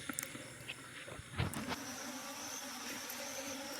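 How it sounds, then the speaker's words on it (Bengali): A swarm of small honey bees nesting inside an old solar box buzzes as a steady, close drone, with a few brief louder knocks near the start. "এই দেখো কি পরিমাণে মৌমাছি"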